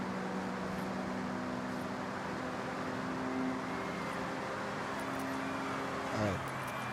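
A quiet car engine hums steadily while driving in the racing game Forza Horizon 6, with a low sustained drone and a brief louder swell near the end.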